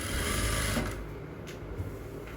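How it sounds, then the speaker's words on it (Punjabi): Sewing machine running steadily while stitching the side seam of a kurta, a continuous close mechanical whir that eases off slightly partway through, with no talk. "ਇੱਥੋਂ ਆਪਾਂ ਸਲਾਈ ਲਾਉਣੀ ਸਟਾਰਟ ਕਰਾਂਗੇ"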